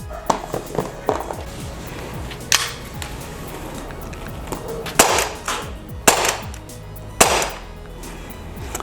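Umarex Glock 6mm BB airsoft pistol fires a handful of sharp, separate cracks, a few closely spaced early shots and then three louder, well-spaced reports, close by over a low background hum.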